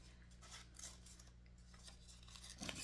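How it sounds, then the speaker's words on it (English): Scissors snip through scrap paper while cutting out a rough circle, faint crisp cuts repeating close by in a quiet room with a sharper snip near the end. "I'm just gonna cut like kind of a circle"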